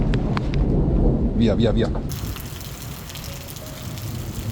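Heavy rain hisses down during a thunderstorm, with a low rumbling of thunder underneath; a voice speaks briefly early on before the steady downpour continues alone.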